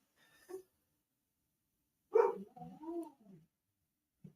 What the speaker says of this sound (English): some fucking dog barks next door and she has to bark back